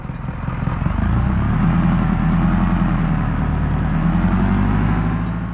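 A car with a manual gearbox runs close by. Its engine gives a steady low rumble that builds slightly, then holds evenly.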